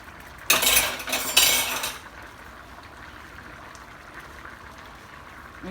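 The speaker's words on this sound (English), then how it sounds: "with the tip of my spoon, I'm going to scrape it" Metal spoon scraping across the bottom of a pot of yellow rice, two quick bright scrapes close together near the start, then only a quiet low background.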